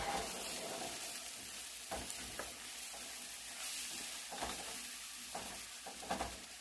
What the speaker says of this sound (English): now we're going to add the flour, and we're going to stir this up